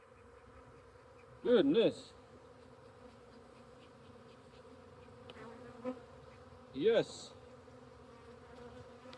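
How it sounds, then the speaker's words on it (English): Honeybees hum steadily throughout an autumn hive inspection, a close, continuous drone, while a person talks briefly in two short bursts over the buzzing. "Yes, bees."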